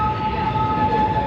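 Disneyland Railroad train rolling steadily along its track, a continuous close rumble with a faint sustained tone above it, no voices.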